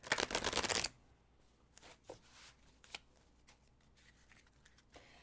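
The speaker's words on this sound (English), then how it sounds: "Did you shuffle these yet?" A quick burst of tarot cards riffled together, followed by quieter soft taps and light handling of the deck.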